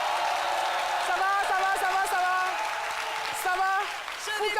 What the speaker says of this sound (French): que je vous demande d'applaudir très très fort